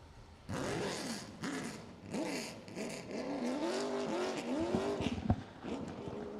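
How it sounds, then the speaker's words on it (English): Limited late model race car engines roar to life at Langley Speedway, revving up and down in repeated surges, loud and close, with sharp rising and falling engine tones. "Limited late models roaring to life here at Langley Speedway"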